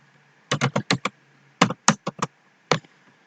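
Keys clack on a computer keyboard as code is typed, a quick run of five taps, then a second cluster of five, then one last keystroke, crisp and close with no talking.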